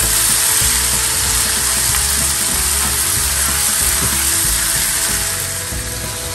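Vegetables for asparagus pulao sizzle loudly and steadily in a hot pan, with a dense, continuous frying hiss throughout.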